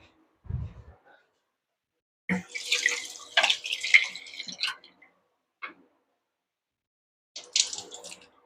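Aloe vera stems are rinsed under a running kitchen tap in short bursts of splashing water, with a brief thump at the start and gaps of silence between washes.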